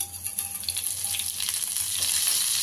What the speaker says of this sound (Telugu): ఆయిల్ వేసుకుందాం బాణలు కూడా వేడైపోయింది ఇందులో పోపు గింజల్లో ఆవాలు జీలకర్ర కొంచెం మెంతులు